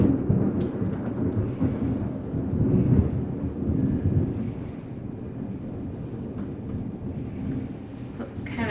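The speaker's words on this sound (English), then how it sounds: "it's lightning outside, thundering. We're having storms here where we're at." Thunder from a storm outside rolls as a low, drawn-out rumble with rain noise, heard at a distance through room sound.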